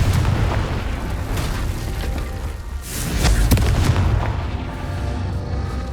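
Fire spell cast in the Hogwarts Legacy video game, a loud booming explosion that rumbles continuously with a stronger blast burst midway, no talk.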